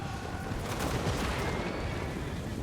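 Grenade launchers fire across a Total War Warhammer 2 battlefield during a Khorne and Norsca invasion of the Empire, heard as a dense, continuous roar of distant blasts and shots with no clear breaks.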